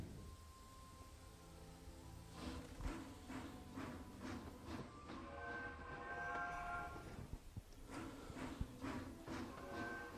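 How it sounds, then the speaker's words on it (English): A train ride to Hogsmeade Station in the LEGO Harry Potter video game, a steady rumbling rail clatter with rhythmic wheel beats and a horn-like tonal blast, moderately distant and continuous. "now we're going to take the train to Hogsmeade Station."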